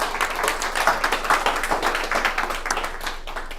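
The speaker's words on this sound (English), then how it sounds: "Give her a big round of applause, please." Audience applause in a live talk setting, a steady dense patter of many hands clapping at moderate loudness, sustained throughout without voices.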